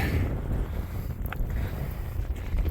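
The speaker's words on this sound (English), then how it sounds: "It's gotten really windy" Strong wind on the Appalachian Trail in New Hampshire and Maine buffets the microphone in heavy, continuous low rumbling gusts, with no other sounds standing out.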